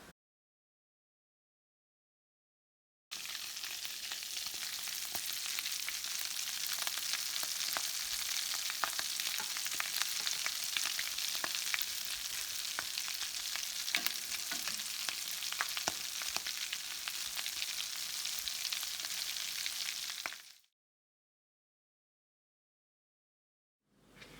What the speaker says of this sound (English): drop them into the oil, and they're only going to take a couple minutes to cook